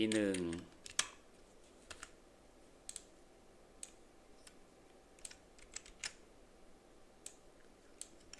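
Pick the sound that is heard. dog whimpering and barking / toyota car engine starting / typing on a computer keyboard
typing on a computer keyboard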